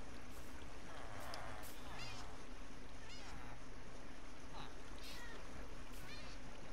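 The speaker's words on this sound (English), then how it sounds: "there's kitty spawning in" A cat meows a few times inside the Minecraft video game, short rising calls scattered over a steady background of game ambience and water-like noise, with a player's voice also present.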